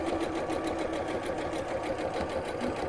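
A domestic sewing machine stitches fabric around a circle to shape a bowl, giving a steady, continuous mechanical whirring and rapid needle chatter that runs unbroken throughout, close and alone without talk.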